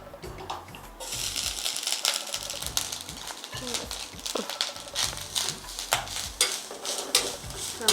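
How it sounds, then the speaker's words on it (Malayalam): Ginger pieces stirred in a little hot oil in a pan for Kerala-style ginger curry, giving a steady run of scraping, clicking and light sizzling across the whole stretch. "നമുക്ക് നന്നായിട്ടൊന്ന് ഇളക്കി"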